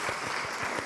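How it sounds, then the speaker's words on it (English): An audience applauds at a school board meeting, a brief burst of steady clapping heard alone, moderately distant. "let's give her a big round of applause"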